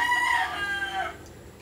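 A rooster crows once in a drawn-out, wavering call, fairly close, with faint farmyard clucking and background noise around it.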